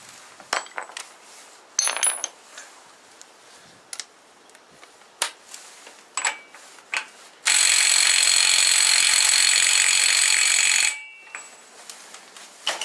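Small electric impact wrench working on the wheel hub of a 2000-2006 Chevy or GMC truck during a wheel bearing job: one loud, sustained buzzing burst of several seconds, close by, with scattered clanks and clicks of tools before and after.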